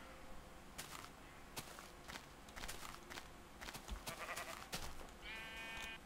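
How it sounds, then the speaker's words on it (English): Sheep in a video game bleat several times against a quiet backdrop, with occasional soft footstep-like thumps and one longer, higher bleat near the end. "Got lots of sheep."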